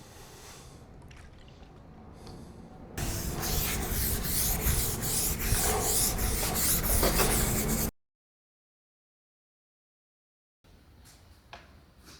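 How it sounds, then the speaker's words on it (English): A brush sweeps stain conditioner across a big oak dining table in steady, close rubbing strokes that stop abruptly, then faint movement resumes after a silent gap. "We're gonna brush this on, wait for 30 minutes, put the stain"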